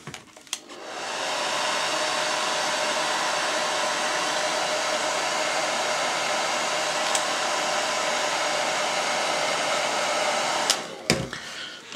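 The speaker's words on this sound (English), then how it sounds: "A hairdryer is always a handy tool." A hair dryer blows steadily for about ten seconds to dry paint on a Space Marine miniature, a loud continuous airy whoosh, switching on at the start and cutting off near the end.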